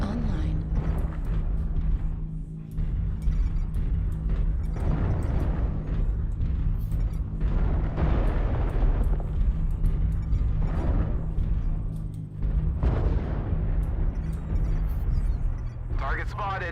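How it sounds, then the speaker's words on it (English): Video game artillery strike sets off a steady, dense rumble of explosions and low booms that rolls on for the whole stretch. The blasts layer over constant mechanical droning, with a talking voice mixed underneath. "Artillery strike online."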